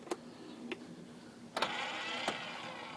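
A Polaris Xplorer 400 two-stroke ATV engine, running with too much oil in its gas mix, is pull started with a new pull start assembly: several sharp rope pulls, then the engine catches and runs with a raspy, faint hum.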